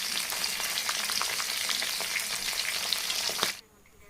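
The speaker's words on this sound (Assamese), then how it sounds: "আৰু মাছখিনি মই পটাপট ফ্ৰাই কৰি ল'ম।" Gorai and bat fish fry in hot oil, giving a dense, steady sizzle close by that cuts off abruptly near the end, leaving only faint background.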